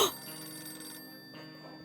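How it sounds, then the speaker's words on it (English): A telephone rings in the post-apocalyptic survival game 60 Seconds! Reatomized, a steady electronic ringtone holding through the moment at moderate level, with no voices over it. "Ring, ring, ring, ring, ring, ring, ring. Government phone."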